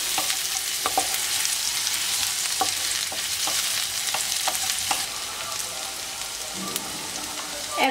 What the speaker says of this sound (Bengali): এখানে আমি 2 টেবিল চামচ পরিমাণ পেঁয়াজ কুচি করে নিয়েছি। এবারে আরো একটু ভেজে নিচ্ছি।